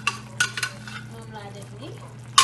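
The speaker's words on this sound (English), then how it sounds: "I'm adding some sumbala and onions" Sumbala and onions go into a frying pot of okra soup for tiebou dieune, giving a few close scraping stirs and utensil clinks over a low steady hum.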